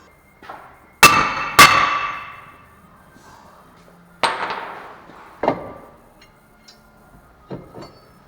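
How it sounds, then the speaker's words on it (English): Hammer tapping the back side of a brake rotor to free it from a 2012 Toyota Corolla during front brake pad replacement: several sharp metallic clangs, two loud close strikes followed by lighter, spaced taps with ringing decay. "you can tap it on the back side with a hammer a few times and get it to come off"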